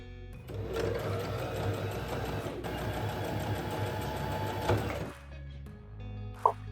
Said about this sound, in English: After that I pin cuff and its bordering together and make a seam.